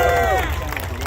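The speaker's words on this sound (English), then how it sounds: "Another cheer for Buc-ee's!" A crowd at the Buc-ee's Sevierville store ribbon cutting and opening ceremony cheers and claps. The cheering is loud and bright at first, then thins into scattered applause and murmuring over about a second.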